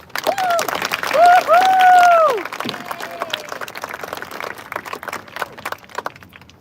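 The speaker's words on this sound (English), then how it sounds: "Can we give them a round of applause?" An audience at an 8th-grade graduation ceremony applauds Board of Education members: sustained, fairly loud clapping mixed with whistles and cheers that fades into scattered claps, with some voices.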